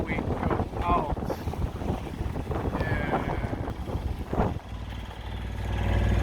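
Wind gusting over a sailboat on the Göta River, a steady low roar of buffeting across the microphone with the boat's motion and water beneath, rising toward the end; a little background talk is faintly present.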